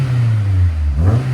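A 2000 Honda S2000 with its 2.0L engine and Vibrant resonators revs up close and loud, a steady droning exhaust note that swells and climbs near the end, with no voices over it.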